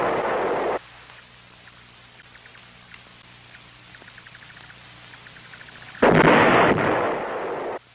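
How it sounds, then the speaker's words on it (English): Artillery fire from the Battlefield Vietnam game during the siege at Khe Sanh: a loud rumbling burst opens, then a quieter stretch with faint scattered pops and crackles, and a second heavy blast rolls in near the end. "The North Vietnamese artillery hitting Khe Sanh and the Marine outposts was all indirect fire"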